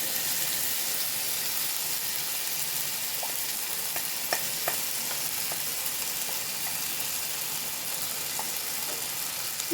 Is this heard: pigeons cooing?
no